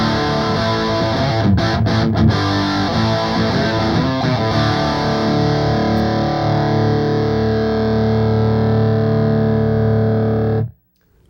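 An electric guitar through a Mesa Boogie Multi-Watt Dual Rectifier head in raw mode plays a few chords. The chords ring out, driven and slightly distorted, with sustained harmonics, then cut off abruptly near the end.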